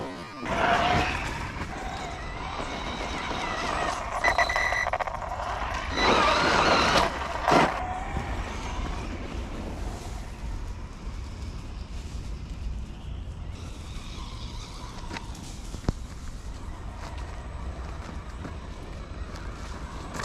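A Losi Lasernut RC car fitted with soft crawler tires runs over rough, hilly ground, its steady motor whine and crunching tires carrying on at a fairly even level with brief louder bursts and no talking.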